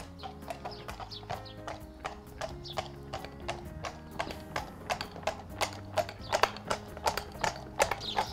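Steady clip-clop of a horse, lame on its left hind limb, trotting on a hard surface, a quick regular rhythm of sharp knocks, fairly close, with faint birds and farmyard sounds behind.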